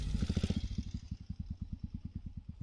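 A trials motorcycle riding a section gives a close, low engine chug with a steady pulsing beat after an opening burst of throttle.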